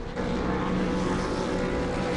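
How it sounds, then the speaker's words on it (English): A steady, loud V8 Supercar engine drone at a race start at Okayama holds throughout, a continuous mechanical roar with a slight building quality and no voices. "can hear the engine starting to build up."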